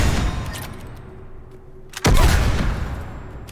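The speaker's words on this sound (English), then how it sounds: "The Garrel Spike Thrower." A Garrel Spike Thrower fires in the video game Mass Effect 3, one sharp, loud burst with a heavy thump that rings out and fades after a quieter stretch of game ambience.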